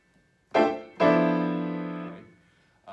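Two big piano chord hits in a jazz style imitating a big band horn section: a short stab followed by a longer sustained chord that rings out and fades, played alone with no talking.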